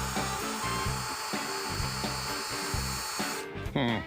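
An electric drill spins the oil pump to pre-lube a Chevy 350 engine, a continuous whirring buzz with a regular pulsing rhythm, close and steady, briefly changing pitch near the end.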